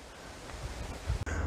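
Strong outdoor wind gusting against the microphone, a steady rushing roar with a sharp buffeting burst near the end, no voices.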